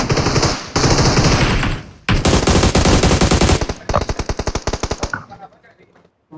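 Rapid bursts of automatic gunfire in the video game PUBG Mobile rattle loudly and almost continuously, then break into separate shots before fading out.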